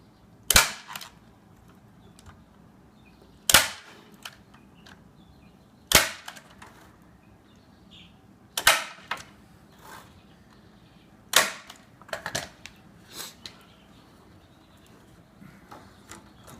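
Staple gun fastening wire mesh onto a rabbit hutch, five or six sharp loud snaps spaced a few seconds apart with a few fainter clicks between, over quiet background.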